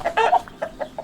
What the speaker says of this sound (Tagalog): Kasi nga talagang napakalaki ng manok na ito.